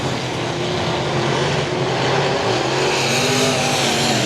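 Stock race cars roar around the oval at I-37 Speedway on the final lap, a steady, loud engine drone that holds throughout with no pause.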